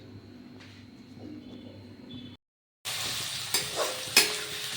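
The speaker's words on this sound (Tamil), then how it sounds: "வெங்காயம் மட்டும் போட்டு வதக்கிட்டு" Onions sautéing in a pan, a soft sizzle with stirring, a brief silent gap, then a louder, brighter frying hiss with a few sharp scraping stirs.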